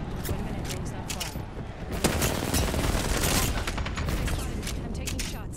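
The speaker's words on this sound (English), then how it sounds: "They're shooting at me." Dense, continuous gunfire from an Apex Legends firefight, rapid rattling shots under a player's excited talk, loud and close throughout.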